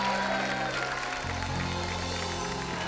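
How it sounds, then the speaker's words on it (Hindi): A studio audience for a comedy talk show claps, with steady, loud, dense applause filling the room throughout, while a low musical tone sits underneath. "तो आप सबकी जोरदार तालियों के साथ प्लीज वेलकम फिल्म गहराइयां से the very gorgeous and stunning Deepika Padukone"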